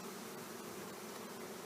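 Honey bees buzzing around an opened hive as a honey super is removed, a faint steady hum close by, continuous and without voices.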